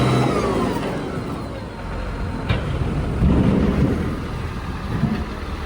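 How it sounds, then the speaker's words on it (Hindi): A tractor engine drones steadily while it hauls a boat on a rope, a loud, continuous mid-pitched rumble with slight surges, no voices. "ट्रैक्टर से खींचते हैं रस्सी बांध के"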